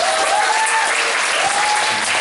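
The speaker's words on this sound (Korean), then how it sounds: "우리 박수 한번 칠까요?" An audience at a business seminar claps in a loud, dense, continuous round of applause for a couple of seconds, with voices faintly beneath.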